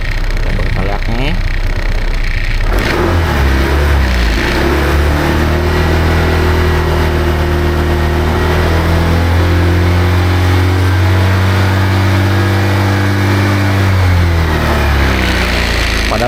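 A Honda ADV 160 scooter with an upgraded CVT revs at close range, its engine rising and holding a loud steady drone for about eleven seconds before settling back, with a voice speaking over it.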